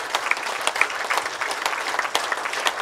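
Seminar audience clapping together, a dense continuous patter of many hands with occasional sharper claps, steady and moderately loud throughout with no speech.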